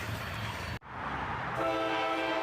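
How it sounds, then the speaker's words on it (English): A freight train led by a three-unit locomotive lash-up, an SD40-3 rebuild trailing, rumbles past nearby; after a brief dropout the locomotive horn sounds a sustained, loud tone over the rolling noise. "A 3-unit lash-up with an SD40-3 rebuild on the tail part of the lash-up."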